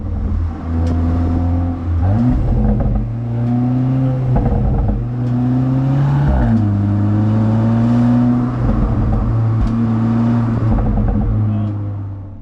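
A 2024 Audi S3 facelift engine revs and shifts through quick gear changes under acceleration, loud and close, with a few brief exhaust pops and crackles scattered among the steady engine drone.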